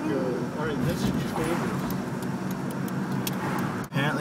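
An old Buick driving, with a steady engine and road rumble throughout, people talking over it inside the car, and a brief dropout near the end.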